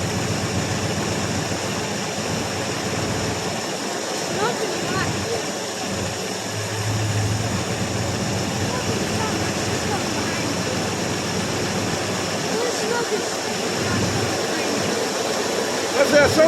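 A 1984 Chevrolet Suburban engine keeps running after a cold start following three years of sitting, giving a loud, steady, unbroken idle that fills the whole stretch without a break.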